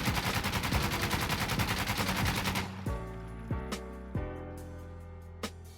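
An Alpha AK rifle with a North foregrip fires a sustained automatic burst in Insurgency: Sandstorm, a dense, loud rattle that ends abruptly and is followed by a few single ringing shots and mechanical clanks.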